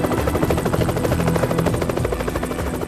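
A helicopter drones steadily overhead at the finish of the Vendée Globe sailing race, its rotor thumping in a fast, even pulse, loud and continuous throughout.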